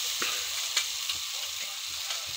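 Tomatoes softening in a pan for egg bhurji, a steady close sizzle of frying with a few soft stirring scrapes and taps over it.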